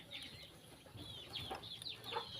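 Chickens cluck in a rural yard with a quick scatter of short, soft calls at moderate distance over a quiet background.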